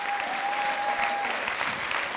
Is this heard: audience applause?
yes